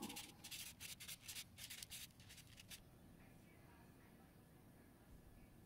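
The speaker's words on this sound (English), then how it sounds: "I think that's 120 grit sandpaper right there. I find that works the best. It makes nice deep marks into the tubes." Pen blank tubes being sanded by hand with 120 grit sandpaper for a wood-turned pen, with quick rhythmic rasping strokes close by for about three seconds before fading to a quiet hum.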